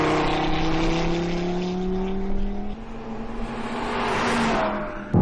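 Audi TT RS 2016 coupe accelerating hard on a racetrack, its engine note climbing steadily and loud throughout, with a shift partway through and continuous close engine roar.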